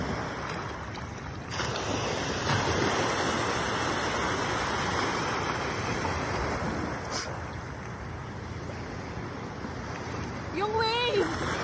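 Ocean waves and surf rumble steadily around a swimmer floating in the sea, mixed with wind buffeting the microphone, and a brief excited voice shouts near the end.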